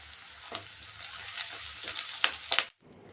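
Onions, green chillies and curry leaves frying in oil with mustard and cumin seeds, a close steady sizzle with stirring scrapes and sharp crackles, cutting off abruptly near the end.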